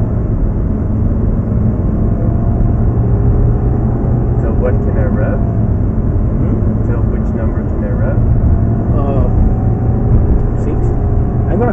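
Steady, loud engine drone from an Audi R8 driven around a racing track, heard from inside the car with a constant low rumble throughout and faint talk over it.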